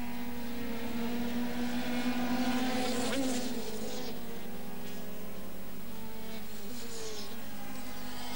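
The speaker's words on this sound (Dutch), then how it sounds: "30 pk ongeveer die machientjes, watergekoelde 2 takten, 6 versnellingen uiteraard" Water-cooled two-stroke racing motorcycles of about 30 hp with six-speed gearboxes race at the 1986 TT Assen. A sustained, buzzing high engine whine holds steady, then dips in pitch as the bikes sweep past at moderate distance, with no talk.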